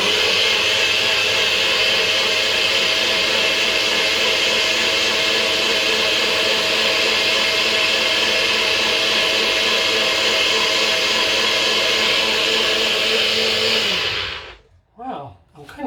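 A kitchen blender whirs loudly and continuously while blending a spinach and strawberry smoothie, a steady high-speed motor whine that cuts off abruptly near the end.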